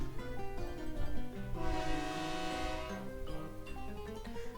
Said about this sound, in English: What's that sound? The train.